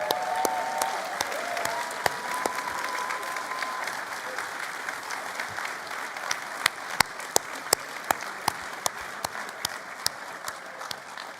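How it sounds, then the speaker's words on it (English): A conference audience at a Labour Party event applauds for Dublin Midwest, steady dense clapping throughout with sharper individual claps standing out toward the end. "an extra round of applause"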